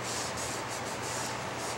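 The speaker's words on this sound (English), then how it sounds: "we're just going to wipe the stock down with the cold water" Close, steady rubbing with a soft rhythmic swish as a damp cloth wipes cold water back and forth over a sanded wooden gun stock.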